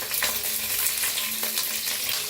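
Dried chilies sizzle and fry in hot oil with cumin seeds, mustard seeds and peanuts in a pan, a steady close crackle with a few brief pops and soft stirring scrapes.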